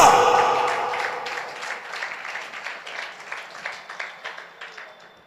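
A congregation clapping along in church, steady rhythmic handclaps that start as a broad burst of applause and settle into an even, fading beat.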